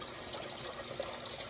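Water churning as it leaves a Venturi oxygenator in a month-old aquaponics system, a steady broadband wash and trickle with no gaps, moderately close and fairly quiet.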